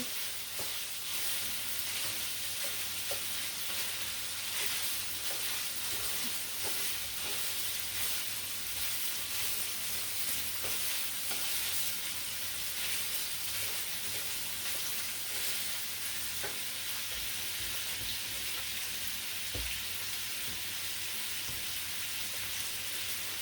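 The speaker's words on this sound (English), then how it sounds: "Let's give our sausage a flip. And break it up." Sausage sizzles steadily in a pan, a soft continuous hiss and crackle with occasional faint scrapes as it is flipped and broken up, no voices.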